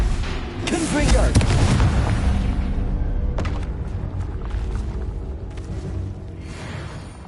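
A Confringo fire spell bursts in a Hogwarts wizarding video game, a loud booming blast with crackling impact that rolls into a sustained rumble, then further thuds fade under spell effects.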